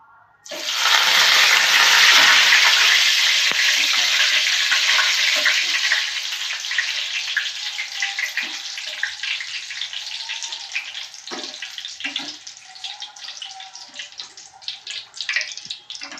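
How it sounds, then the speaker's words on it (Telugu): Curry leaves hit hot oil in a pan with a sudden loud hiss and crackle that slowly settles into a softer steady sizzle with scattered pops, close up and without talk. "కరివేపాకు ఫ్రై చేసుకోవాలి."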